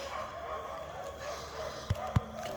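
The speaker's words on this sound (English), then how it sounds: "if you're wondering what all that barking is, it's my neighbor's dogs." Dogs bark in the distance on an outdoor walk, two short, sharp barks a fraction of a second apart over steady ambient outdoor noise.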